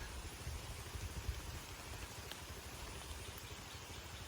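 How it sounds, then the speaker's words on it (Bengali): Steady, fairly quiet rainfall patters and hisses on surfaces near a jute field, with a faint low engine hum underneath and no voices. "বৃষ্টি হইতেছে,"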